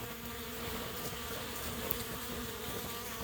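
Freshly hatched honey bees feeding on the top of a hive buzz in a dense, steady drone, with many wings humming close up for the whole stretch and no voices.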